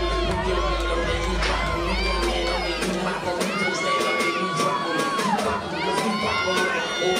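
Wrestling arena crowd in full roar, dense cheering, whoops and high-pitched shouts from many voices filling the space continuously and loudly.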